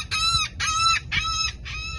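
Seagulls call out over people tossing them food, four loud, drawn-out harmonic squawks in a steady series, each about half a second long, with no voices.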